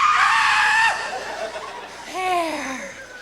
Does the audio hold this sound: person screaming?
yes